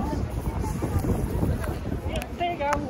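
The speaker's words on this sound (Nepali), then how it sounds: "बाहिर हावा पनि चलिरहेको छ" Cold wind blows steadily outdoors, a continuous low rumble buffeting the microphone throughout, with faint voices in the background.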